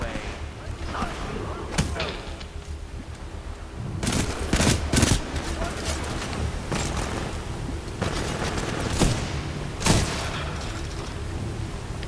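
Bursts of gunfire from the first-person shooter Titanfall 2, with rapid automatic volleys and several loud sharp shots spread through a continuous din of battle, a voice talking underneath.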